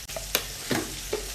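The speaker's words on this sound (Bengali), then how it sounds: "ওল আলুটাকে একটু কষিয়ে নেব হালকা করে" Elephant foot yam and potato pieces sautéing in a pan for a Bengali ol dalna, with a faint steady sizzle and a few short scraping stirs, quiet and close, no talking.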